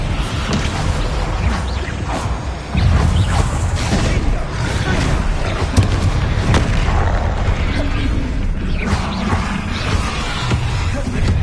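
A Bombarda spell explodes in the Hogwarts Legacy video game, a dense, loud rumbling blast layered with booming combat noise and a voice over it.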